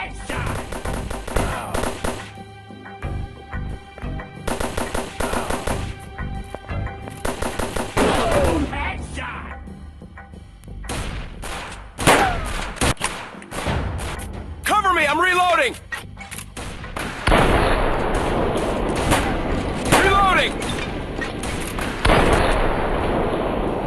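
Gunfire rattles through the Android shooter Gun Shooting Strike, a counter-terrorist game, with rapid automatic bursts and single shots broken by brief pauses and reload sounds, and game voices and music running beneath.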